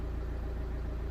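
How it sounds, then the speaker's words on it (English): Vauxhall Zafira 2.0 CDTi diesel engine idling with a DPF fault, a steady low, even rumble with no change in pitch, heard close up and alone. "As you can see, the car was idling"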